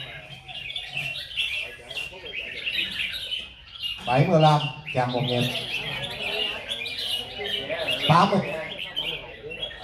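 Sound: red-whiskered bulbul singing at a song contest

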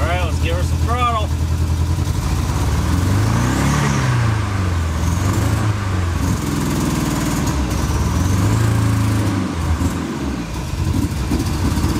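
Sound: Dodge Charger engine revving under throttle

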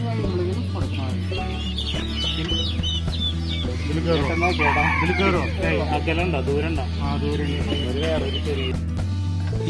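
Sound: chickens clucking and rooster crowing at hatchery market

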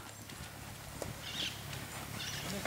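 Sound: Lusitano horse hooves clip-clopping

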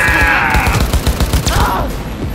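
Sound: rifle firing in video game Cyberpunk 2077

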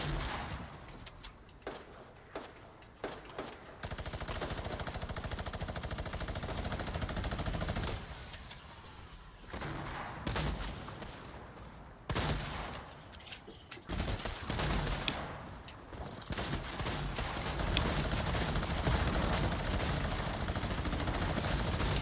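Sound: gunfire from Fortnite video game

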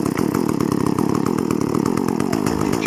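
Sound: pulling the starter rope of a chainsaw

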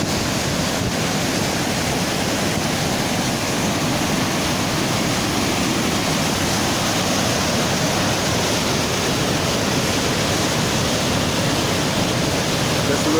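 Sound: Aygır waterfall roaring, Bozkır

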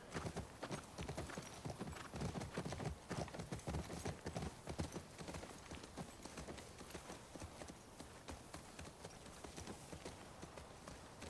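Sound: horse hooves clip-clopping, from a video game

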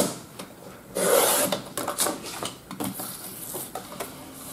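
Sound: cutting paper for a spiral-bound album

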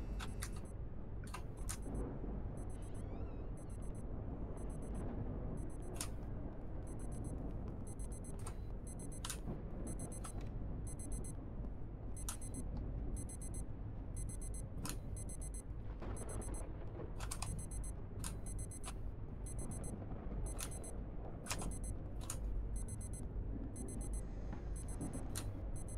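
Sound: alarm ringing in the video game Obsideo

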